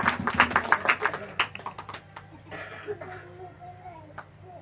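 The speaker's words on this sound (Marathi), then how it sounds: "त्या प्रभूसाठी जोरदार टाळ्या वाजवा." A church congregation clapping at a Christian worship service, a burst of loud overlapping handclaps that thins into scattered claps as a voice begins speaking.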